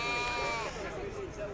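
Sheep bleating at a Moroccan livestock market in Azrou, several wavering bleats overlapping with a loud crowd murmur and voices from buyers and sellers around the animals.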